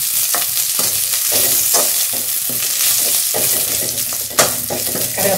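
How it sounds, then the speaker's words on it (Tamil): Curry leaves frying in hot oil for a tamarind curry crackle and sizzle loudly, up close, while a spoon scrapes and stirs them in the pan in repeated strokes, with one sharp clatter near the end. "கருகாப்பிள் நல்லா பொரிஞ்சிருச்சு."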